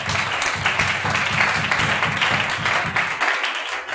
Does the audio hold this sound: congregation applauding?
yes